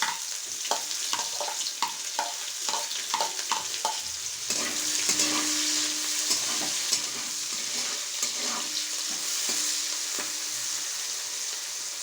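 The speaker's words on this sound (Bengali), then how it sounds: "এবার দিয়ে দিচ্ছি কুচিয়ে রাখা পেঁয়াজ।" Two medium chopped onions frying in a pan for cabbage chicken, with a steady close sizzle and repeated clinks and scrapes of stirring throughout.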